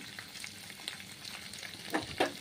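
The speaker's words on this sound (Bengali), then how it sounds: "মাংসটাও কষিয়ে নিয়েছি। শুধু একটু নাড়াচাড়া করে নেব।" A spoon scrapes and stirs cooked meat in a pan for biryani, producing soft sizzling with a few sharper scraping clicks near the end, close and fairly quiet, with no talk.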